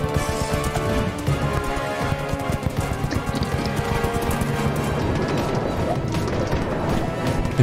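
Animated Minecraft horse race with rapid, steady galloping hoofbeats running continuously under a busy, dense mix of game effects and music.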